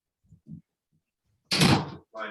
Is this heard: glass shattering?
no